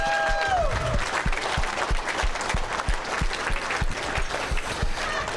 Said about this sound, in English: we got to give him a lot louder round of applause than last time